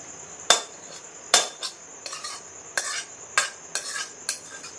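A spoon scrapes and knocks against a wok while small fish curry (choto macher chorchori) is served onto a plate, making about eight sharp metallic clinks and scrapes at uneven intervals over a quiet kitchen background.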